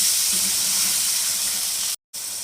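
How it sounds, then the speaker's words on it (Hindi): Mutton being fried with tomatoes and ginger in a karahi gives a steady, close sizzling hiss that runs throughout, with one abrupt dropout of sound near the end and no voices. "और अब टमाटर और अदरक के साथ अच्छी तरह इसकी भुनाई करेंगे"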